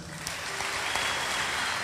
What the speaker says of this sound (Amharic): አጨብጭቡለት።